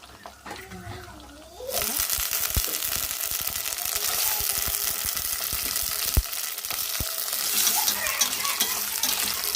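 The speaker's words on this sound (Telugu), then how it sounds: "నూనె అయితే బాగా వేడైంది కదండి ఇంకా అల్లం చిన్న పేస్ట్ వేసుకుందాం" Loud, steady sizzling of ginger paste frying in hot oil begins abruptly after a quiet moment, with occasional sharp clicks and stirring scrapes.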